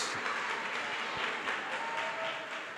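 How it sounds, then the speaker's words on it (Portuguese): A church congregation at a Pentecostal celebration service claps and applauds steadily, soft and somewhat distant, a brief burst of hand clapping with no voices over it. "aplauda Ele"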